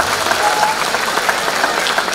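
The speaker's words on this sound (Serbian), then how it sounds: "Još jedan aplauz za klince" Audience applause at a charity concert in Batočina for a children's performance: dense, sustained clapping from a large crowd, even and unbroken throughout.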